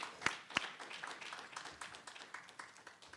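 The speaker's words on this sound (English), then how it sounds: "let's give him a warm round of applause" Audience applauding at an NAACP Detroit Branch community law school event: steady crowd clapping with a few sharp, close claps standing out, moderately loud and with no talk.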